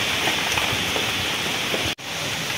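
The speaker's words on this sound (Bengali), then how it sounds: "বৃষ্টি আবার পড়া শুরু করেছে" Steady rain pattering down on a surface, a dense even hiss that briefly cuts out near the end before resuming.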